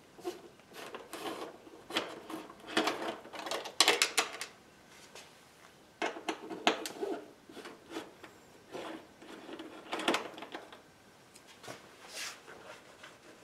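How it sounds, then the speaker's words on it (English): Two screws being removed with a 4mm Allen wrench from the headlight cover of an Indian motorcycle power windshield: close, intermittent metallic clicks, scrapes and rattling handling noises in irregular bursts, no talking. "Using a 4mm Allen wrench, let's get started by removing these 2 screws."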